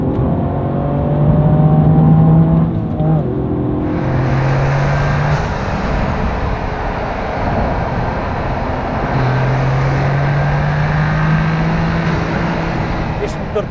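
A Toyota GR Yaris 1.6-litre three-cylinder engine, rated at 261 horsepower and set in Sport mode, accelerates on a road, its rising tone climbing through gears under steady road and wind noise from inside the cabin.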